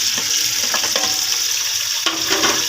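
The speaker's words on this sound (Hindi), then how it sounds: "अब इसमें मैं टमाटर और आलू ऐड कर रही हूँ" Tomatoes and potatoes are dropped into a pan of frying garlic for aloo pulao, setting off a loud, close sizzle with a few stirring clinks and a fresh burst of hissing near the end. No one talks.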